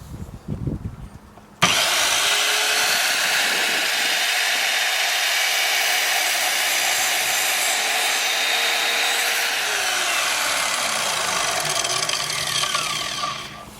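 An Evolution R185SMS+ sliding mitre saw spins up with a sudden loud whine, then holds a steady high motor drone while the blade cuts, ending as it winds down near the close; brief handling noises come before it starts.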